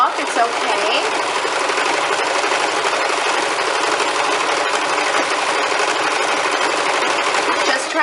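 A sewing machine runs steadily while stitching a fabric tube for a hair scrunchie, giving a continuous loud, close mechanical whir with rapid needle chatter that does not let up.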